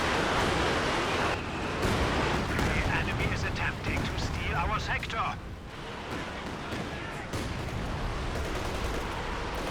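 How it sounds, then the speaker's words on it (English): Katyusha rocket artillery firing in a World War II strategy video game, dense rumbling barrage with bursts and crackles running continuously at loud level, under a busy battle soundscape with talk over it. "Nice return shots there from the Katusha."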